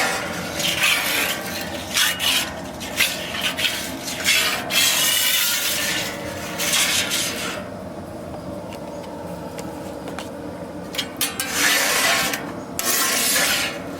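Canola oil spread with scraping, rasping rubs across the rough hot cooking surface of a Camp Chef FTG600 flat top griddle, uneven continuous strokes up close over a constant burner hiss.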